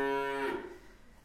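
A single cow lets out one close, clear moo that swells and then fades over about a second.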